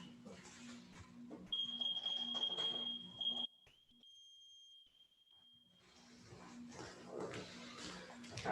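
A one-minute workout timer gives a single long, steady, high-pitched beep lasting several seconds over faint background noise, with muffled voices before and after.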